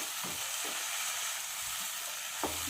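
Okra (bhendi) frying in a pan over a medium gas flame, making a steady close sizzle throughout with a few faint stirring scrapes and no voices.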